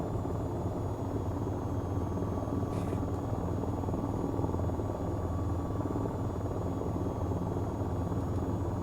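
Steady rotor thump and turbine whine of an AH-94 attack helicopter in the VTOL VR flight game, constant and even in level flight, with a brief whoosh around the middle.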